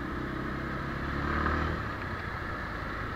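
A 2018 Bajaj Pulsar 150 Twin Disc motorcycle engine drones steadily under rushing wind noise, a continuous ride sound with a slight rise in the middle.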